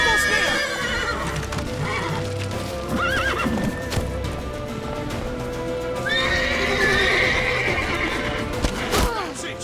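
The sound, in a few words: horse neighing and galloping in The Witcher 3 video game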